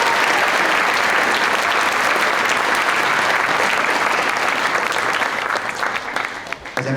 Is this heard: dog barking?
no